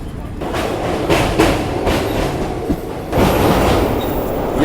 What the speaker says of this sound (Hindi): ये इंडिया की 3rd लॉन्गेस्ट ट्रेन है